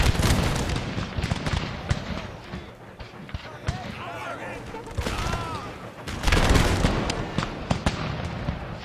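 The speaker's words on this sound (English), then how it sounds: "Should get some volley fire now" Musket volleys in the battle game Empire: Total War, a steady crackle of massed shots over the clamor of battle, with a louder burst of firing near the end and someone talking over it.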